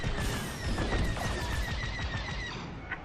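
Rapid laser blaster fire crackles during a space dogfight in Star Wars: Squadrons, in the Imperial prologue. The bursts come as a dense, continuous volley with a thin electronic whine running through, and nobody speaks.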